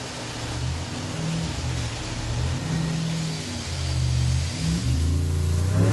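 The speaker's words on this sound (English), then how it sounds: "I just wanted to see how much power I could make on the dyno" A turbocharged car engine runs under load on a dyno, a steady low rumble that builds gradually in intensity toward the end, heard up close with no voices.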